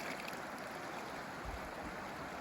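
Dirty water pours out of a CNOC water bag on the Appalachian Trail, a faint, continuous splashing trickle with a few soft gurgles near the end.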